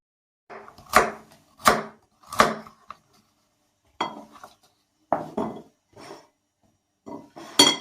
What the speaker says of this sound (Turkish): sebzeleri de doğruyoruz.